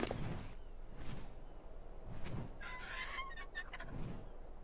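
A large weight-carrying bird creature in the video game ARK gives repeated gobbling, fowl-like calls over a steady background, a few short rough cries and one brighter warbling call partway through.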